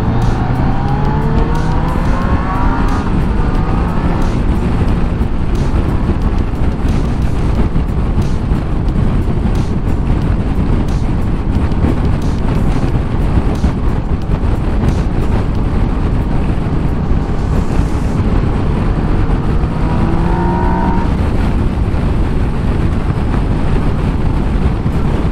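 A Yamaha Niken GT three-wheeled motorcycle runs under way, its engine droning loud and steady with rising and falling pitch as it shifts, mixed with constant rushing wind across the whole ride.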